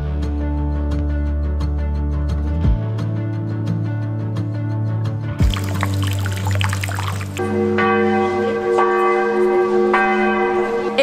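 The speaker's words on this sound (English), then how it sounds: "Officially noon. The bells are coming from the Church of St. Mary Magdalene." Noon bells ring out from the Church of St. Mary Magdalene in Karlovy Vary, a Czech spa town in winter. Loud, sustained tolling with overlapping tones shifts pitch as different bells join, and no one speaks.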